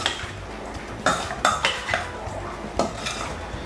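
Saltfish buljol tossed with oil and lime in a bowl, with a spoon clinking and scraping against the dish in several separate strokes, close and alone with no talk.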